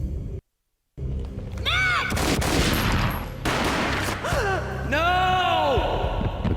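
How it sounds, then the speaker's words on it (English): A gunshot in a Max Payne video game cutscene: a heavy booming burst within a dense, cinematic mix of rumble and effects, with gasping, voice-like sounds around it, loud and close. "A gunshot boomed and she fell down in slow motion"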